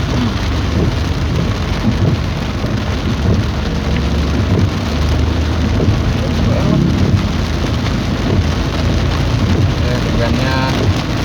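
Heavy rain pours steadily at Rancasalak along the Cileunyi-Garut route via Cijapati, a dense continuous hiss with distant thunder rumbles and passing traffic mixed in, loud and unbroken throughout.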